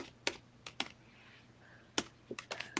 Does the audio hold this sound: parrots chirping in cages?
no